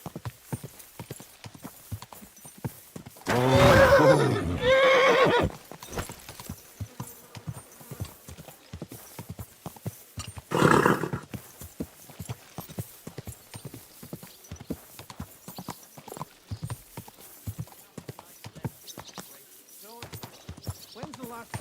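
Horse hooves clip-clop steadily at a walking pace, with bursts of louder noise and people talking over the hoofbeats.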